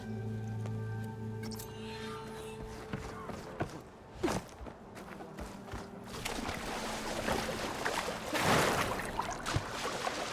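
Wet squelching of water-filled boots in Horizon Forbidden West, soft squishy steps in a continuous watery background with game music tones fading early.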